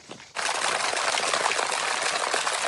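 A Malort cocktail poured from a shaker cup, a steady splashing liquid stream that starts abruptly after a quiet moment and runs continuously at moderate volume.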